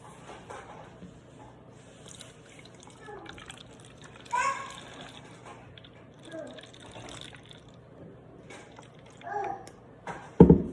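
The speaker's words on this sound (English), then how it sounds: "you want to fill the clear plastic bottle with water" Water runs into a clear plastic bottle, a soft steady trickle with a few louder splashy gurgles and a sharp knock at the end, while faint voices murmur in the background.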